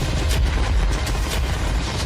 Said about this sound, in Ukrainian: Вогонь із гармат!